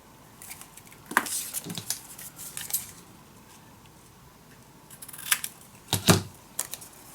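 Paper being cut down to size for a handmade mini album, with a series of crisp snipping and slicing clicks in irregular bursts, close and fairly loud, and no speech.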